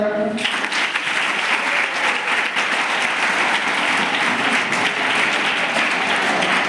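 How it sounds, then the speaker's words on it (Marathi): Loud, sustained applause from a live audience, steady clapping with crowd noise throughout after a brief quiet start. "टाळ्या कशा वाजायला पाहिजे"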